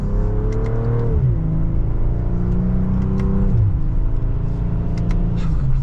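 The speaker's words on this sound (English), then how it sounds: "It definitely sounds good even under a mild acceleration like that" A 2025 BMW M340i accelerating in second gear in sport mode, heard from inside as a smooth engine note climbing in pitch, dipping briefly, then rising again over a steady road rumble, loud and close.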